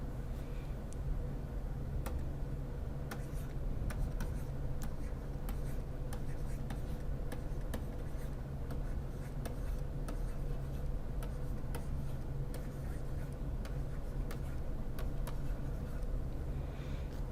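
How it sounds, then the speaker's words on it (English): A pen or pencil writes numbers along a number line, faint scratching strokes and light taps spread through a long stretch over a steady low background hum. "we're going to write the numbers 0 to 100 on the line in increments of 10."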